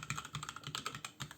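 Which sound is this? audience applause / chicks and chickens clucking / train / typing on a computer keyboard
typing on a computer keyboard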